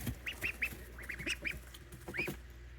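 High-pitched peeps and quacks come from baby Pekin ducks in several short clusters, close and clear over a steady low hum, with brief gaps between bursts.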